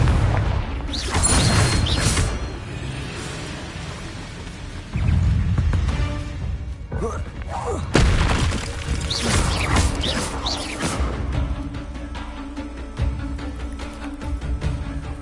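Incendio and Confringo spell explosions in Hogwarts Legacy on PS5, heavy booming blasts and crashing bursts at irregular intervals over a rumbling game soundscape, loud and close.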